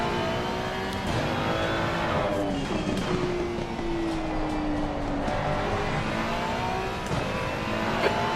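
Simulated Ferrari race car engine in Assetto Corsa Competizione at Valencia, a loud continuous engine note rising and falling through gear changes, close and steady throughout, with no talking.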